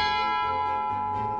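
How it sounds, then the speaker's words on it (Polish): A bell cast in 1522, hanging at the top of a church tower in Człuchów, Pomerania, rings with a sustained, resonant tone that hums steadily throughout, with no voices present. "Na samej górze wieży kościelnej znajduje się dzwon z 1522 roku."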